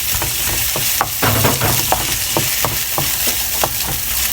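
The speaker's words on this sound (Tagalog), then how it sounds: "ginigisa muna yung gulay." Vegetables sauté in a hot pan for pancit, a loud continuous sizzle broken by quick rhythmic taps and scrapes of stirring, close up and with no voices.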